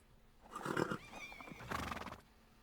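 A horse in the medieval game Kingdom Come: Deliverance II whinnies twice in quick succession, the calls clear and close with faint hoof clops beneath, no talk over them.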